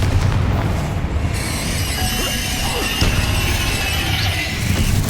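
Confringo and Bombarda spell explosions in the Hogwarts Legacy video game, heavy booming blasts and crashing debris that rumble continuously and loudly with bright crackling layered over the top, with no voices.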